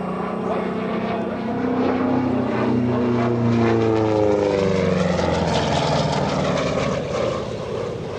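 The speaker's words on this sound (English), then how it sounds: "This is an award-winning aircraft that carries the name Bonnie" A P-47D Thunderbolt warbird propeller aircraft at EAA AirVenture 2025, with a loud, continuous engine drone whose pitch rises and falls as it passes, filling the whole stretch.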